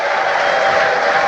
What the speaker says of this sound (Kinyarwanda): nimuyimbere amashyi n'impundu